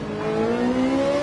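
A race car engine in Gran Turismo 7 on the Daytona road course, a steady, fairly loud whining drone that climbs slightly in pitch as it holds over a short moment, heard alone.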